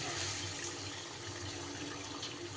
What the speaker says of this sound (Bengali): এইবার আমি এতে দিয়ে দেব পরিমাণ মতো জল